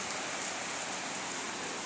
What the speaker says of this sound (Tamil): நம்மளுக்கு இப்போ தான் மழை வருது பாருங்க